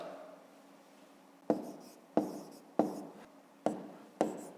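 Pen strokes writing out a fifth-grade math solution: five short bursts of scratchy writing, each starting sharply and trailing off, after a quiet lead-in, close and distinct with no talk.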